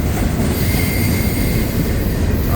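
A CSX manifest freight train with several lead locomotives and a mid-train DPU rolls past close by, loud continuous wheel roar and rail rumble with faint squealing from the wheels.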